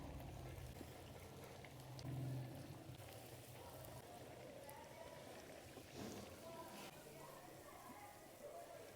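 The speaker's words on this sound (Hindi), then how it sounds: "अब इन्हें हम फ्राई करेंगे। उसके लिए यहाँ पे मैंने ऑयल को गर्म होने के लिए रख दिया था।" Egg and potato cutlets frying in medium-hot oil give off a soft, steady bubbling sizzle, quiet and continuous, with a brief swell of louder crackling early on.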